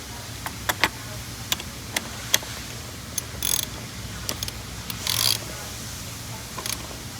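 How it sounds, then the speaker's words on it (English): A wrench tightens a part on a Ford diesel truck, giving a few sharp close metallic clicks and short ratcheting bursts amid faint background noise, with no voice. "just gonna go ahead and tighten this back"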